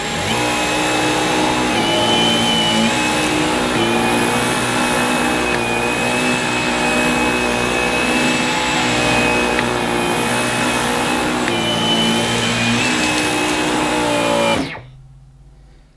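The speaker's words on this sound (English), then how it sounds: "when cleaning my living room, I'm going to have to select minimum on the head and eco on the cleaner" Dyson V15 Detect cordless vacuum cleaner running on eco mode with the head on minimum while cleaning a living room, a steady loud whine and whir that holds constant for about fifteen seconds before cutting off abruptly.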